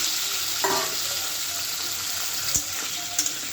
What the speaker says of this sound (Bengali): তো এই যে আলু ভাজিতে মরিচ দিয়ে দিচ্ছি, পেঁয়াজও দিয়ে দিচ্ছি। আলু ভাজিটাকে কষাবো।